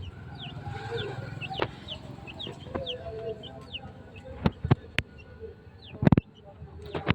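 Pet chickens clucking and rustling close by, with short sharp calls scattered over a steady low background and a few louder clicks or knocks near the end.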